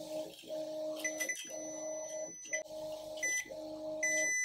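A multimeter on continuity test beeps several times in a row while a Xiaomi scale is repaired, each tone short and steady with brief gaps, close and fairly clear against quiet room background.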